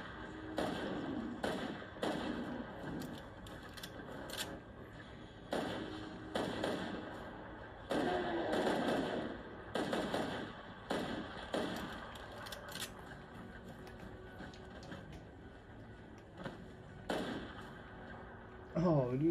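Gunfire in the video game Fallout 4: several sharp thumping shots scattered through the stretch, moderately loud, with someone talking in between.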